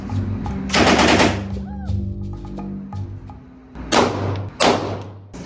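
Several loud, booming gunshots ring out at an outdoor shooting range in Williams, Arizona: two sharp bursts early, then two more near the end, with a quieter stretch and faint chatter between them.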